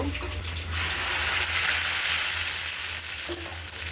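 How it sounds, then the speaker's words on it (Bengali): Dal being tempered with spiced oil, which sets off a loud, rushing sizzle that swells and holds steady for a few seconds, close and dense, with a faint voice underneath. "তো আমি এখন ডালটা বাগার দিয়ে দিব"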